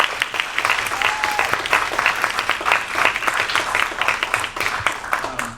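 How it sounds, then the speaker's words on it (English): An indoor audience applauds a panel with a sustained, dense wash of clapping from many hands, moderately loud and even throughout, with faint voices mixed underneath. "So let's give them a round of applause."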